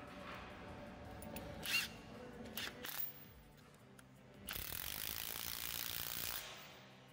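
Milwaukee 1-inch D-handle impact gun tightening a 1.5-inch cap on pipeline work, heard in two bursts of harsh rattling hammering with a short pause and clicks between, close and loud.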